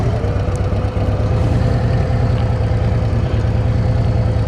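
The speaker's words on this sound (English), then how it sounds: "Okay, let's take her for a ride." A Harley Davidson CVO Road Glide motorcycle with a Klock Werks 15-inch Pro Touring windshield runs on the road, its engine a loud, steady, close rumble with no break over the whole stretch.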